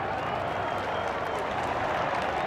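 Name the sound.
college football stadium crowd applauding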